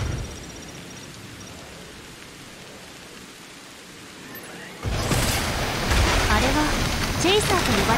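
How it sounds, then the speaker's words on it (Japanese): Rain falls in the video game SYNDUALITY Echo of Ada on PS5 as a steady, soft hiss that abruptly swells into a much louder, denser downpour partway through. "雨が収まってきましたね"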